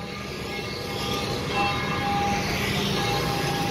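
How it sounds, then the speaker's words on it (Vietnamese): Church bells ring out at a church in Saigon at Christmastime, a sustained metallic tolling heard at a distance over steady street and crowd noise. "Tiếng chuông của nhà thờ, mình đang đứng ở vị trí của nhà thờ."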